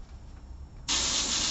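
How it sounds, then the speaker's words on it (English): A small workshop air compressor switches on abruptly after near-silence and runs with a loud, steady hissing drone. "Horrendous noise is my little workshop compressor."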